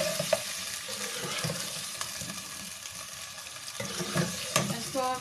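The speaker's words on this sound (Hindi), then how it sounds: "अब ये चिकन जो है हम इसमें डालेंगे और इसको हिलाएंगे जब तक इसका रंग चेंज नहीं होगा।" Pieces of chicken for a korma frying in hot oil and being stirred in a pan, a steady close sizzle with scraping spoon strokes and occasional clinks, no talk.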